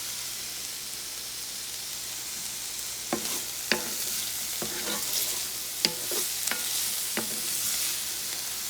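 Zucchini, eggplant, carrot, basil and tomatoes cook down into a ratatouille in a pan, a steady close sizzle punctuated by a handful of sharp utensil clicks as the vegetables are stirred, with no voices.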